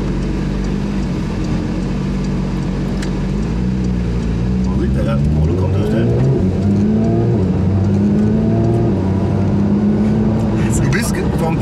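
A car pulls away and accelerates, its engine rising in pitch through a few gear changes, heard from inside with steady road noise throughout.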